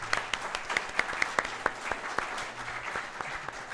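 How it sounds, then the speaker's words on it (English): A small live audience at an Aston Martin dealership claps for a few seconds, with individual sharp hand claps standing out over a softer steady patter. "give yourself a round of applause"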